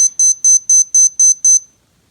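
A Timex Ironman T5K822 wristwatch timer gives seven sharp, evenly spaced high beeps at close range, loud and clean, then falls silent.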